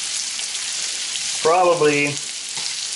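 Bacon fries in a pan with a constant bright sizzle as it is stirred, while someone briefly speaks a word midway over the hiss.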